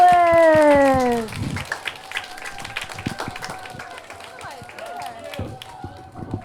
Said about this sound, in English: Round of applause for all of our spellers.